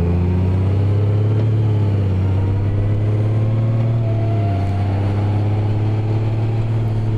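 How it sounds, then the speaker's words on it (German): A Honda Goldwing Tour DCT engine drones steadily up close, its low, throaty note climbing in pitch as it accelerates and the automatic gearbox shifts quickly through the gears. "man merkt schon, wie kräftig, mit welchem Drehmoment dieser Motor da dran geht"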